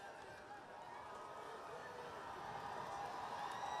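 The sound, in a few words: stadium crowd cheering on third down, from NCAA Football 2025 video game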